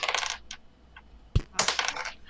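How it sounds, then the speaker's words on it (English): Dice rolled on a table during a tabletop role-playing session: a quick clatter of hard little objects bouncing, one sharp knock, then another rattling roll, close and fairly clear. "Are you rolling dice over there, Dwayne?"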